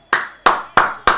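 Four sharp, separate hand claps spaced evenly about a third of a second apart, close and crisp, from a person or people watching a PSG football match.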